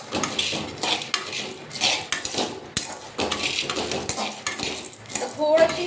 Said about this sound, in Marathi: तर याला थोडंसं हलकं जे आहे तेच भाजून टाकते गरम होतपर्यंत.